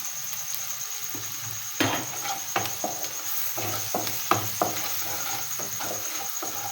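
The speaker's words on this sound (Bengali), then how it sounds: "পেঁয়াজগুলো একটু ভাজা ভাজা হয়ে আসছে" Sliced onions frying with turmeric powder in a pan, a steady close sizzle with several sharp scraping stirs of a spatula across the pan.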